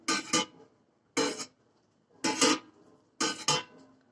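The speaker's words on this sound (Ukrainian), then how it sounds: "Перемішуємо зверху вниз, щоб фермент добре розподілився по всьому молоці." Four separate stirring strokes through goat milk with cheese enzyme in a pot, each a short close swishing scrape with faint metallic contact, separated by about a second of quiet.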